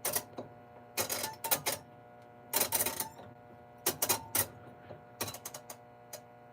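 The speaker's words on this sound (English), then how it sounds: "And then the timer sounds like this when you turn it." A Whirlpool direct drive washing machine timer dial is turned, producing repeated bursts of ratcheting clicks in irregular clusters, crisp and close with quiet pauses between.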